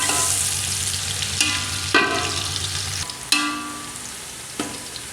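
Onions fry in hot ghee for matar pulao, giving a close, steady sizzle broken by several sharp spoon scrapes and clanks against the pot.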